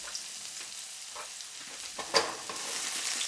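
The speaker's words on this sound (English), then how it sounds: "Okay, oil's hot. In go the shallots." Shallots hit hot oil for dan dan noodles, crackling in a steady, moderately quiet sizzle with scattered sharp pops and one louder spatter burst partway through.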